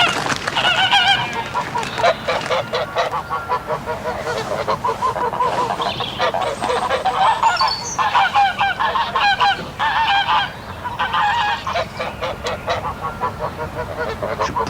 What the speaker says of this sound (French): Qu'est-ce que tu fais avec cette oie, Jim?